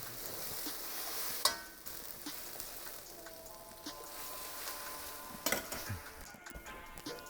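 Garlic frying in red chili oil in a wok, a quiet, steady sizzle with a couple of sharp utensil clanks against the pan.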